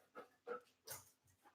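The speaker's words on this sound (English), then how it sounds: "He's such a tall dog." A tall dog makes a few short, faint whimpering yelps and soft barks indoors, spaced in quick bursts at close range.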